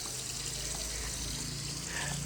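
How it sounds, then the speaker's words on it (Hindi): Water sprays steadily onto the ground of a village courtyard in Punjab before sweeping, a continuous hissing gush close by that barely varies in level. "हमने सोचा पहले पानी का छिड़काव करते हैं और उसके बाद फिर झाड़ू लगा दिया जाएगा यहाँ से"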